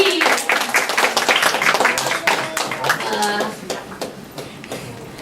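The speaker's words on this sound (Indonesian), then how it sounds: "Kita sambut dengan tepuk tangan yang meriah ya, Bapak Bernardo Nugroho Yahya PhD." Audience applause at a BIC Seoul gathering welcoming Bernardo Nugroho Yahya PhD, a steady run of close hand claps lasting several seconds and tapering off, with voices murmuring alongside.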